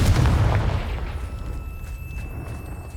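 A Confringo blasting spell goes off in the Hogwarts Legacy video game: a loud, deep boom with a heavy low rumble that starts hard and slowly fades into a lingering, softer roar.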